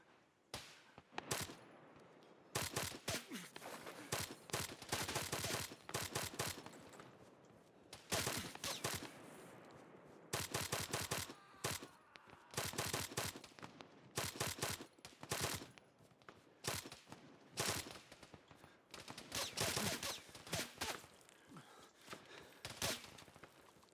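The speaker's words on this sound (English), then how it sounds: "Shots fired. Shots fired." Rapid gunfire in the Arma 3 military game, with repeated sharp bursts and volleys packed densely across the clip, loud and close, with short gaps between salvos and no talking.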